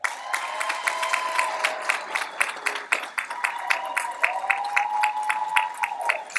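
Audience at a summer school graduation ceremony applauding the new graduates, dense rapid clapping mixed with cheers and whoops sustained throughout.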